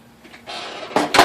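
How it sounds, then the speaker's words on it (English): Case being lifted off an IBM Selectric typewriter, a soft scraping slide followed by two sharp plastic-and-metal clunks, close up with no talking. "I'm going to take the case off just to make this a little easier."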